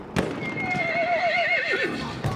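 A horse in the video game Battlefield 1 lets out a loud, drawn-out whinny with a wavering pitch that falls at the end, heard over steady game noise and no talking.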